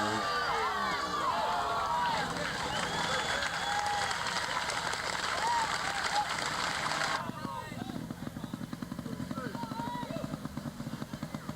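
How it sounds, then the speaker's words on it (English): Crowd at an observed motorcycle trials championship round in Pennsylvania clapping and cheering loudly and continuously as a rider attempts a wall, a motorcycle engine revving underneath and a commentator talking over it. "A lot of encouragement by the crowd here as Thierry Michaud tries it."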